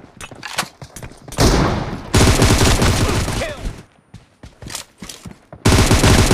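M762 assault rifle bursts in the mobile battle royale BGMI, loud close sustained automatic fire in several long volleys separated by short sharp single shots and brief pauses.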